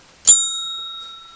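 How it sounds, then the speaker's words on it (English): A single bright bell strike, like a bicycle bell, rings out sharply, then leaves a clear sustained ring that slowly fades, with a faint second tap near the end. "Ring that bell, Mary."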